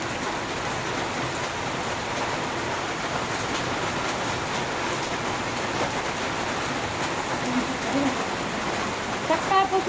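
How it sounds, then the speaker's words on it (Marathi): Steady, dense hiss of heavy rain pouring down continuously in Jalna district, Maharashtra, with a few faint tones near the end. "एवढा जोरदार पाऊस आहे"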